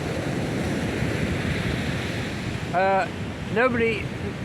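Broadband surf rushes steadily on a beach during a morning walk on the Fisherman's Trail, with wind buffeting the microphone throughout; a brief tonal call, likely a gull, cuts in twice near the end.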